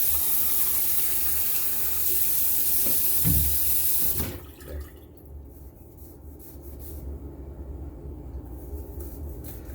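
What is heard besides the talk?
water running from a tap into a bowl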